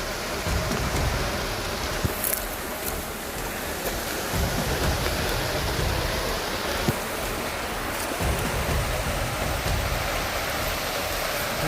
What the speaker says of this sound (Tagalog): Kaya paputol-putol yung camera natin kasi ang lakas ng ulan, mababasa yung camera natin.